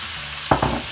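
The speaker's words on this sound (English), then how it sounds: "Again, give it a stir." Colorful bell peppers stir-fried in a hot pan for tofu noodles: two quick, close stirring scrapes over a constant loud sizzle, with no voices.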